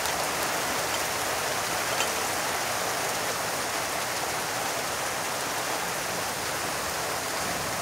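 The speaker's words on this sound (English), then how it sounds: "And here comes the rain." Heavy rain pours steadily during a thunderstorm, a dense, continuous hiss of drops on surfaces with no breaks and no voices.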